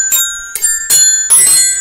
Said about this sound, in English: Some bells for you.